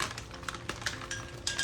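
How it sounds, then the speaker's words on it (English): Frozen blueberries rattle and clatter into a skillet, a quick scattered series of small hard clicks and taps against the pan, close up with no talk. "I'm gonna put some frozen blueberries in the skillet"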